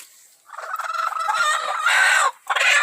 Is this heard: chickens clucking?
yes